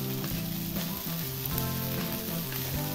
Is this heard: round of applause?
no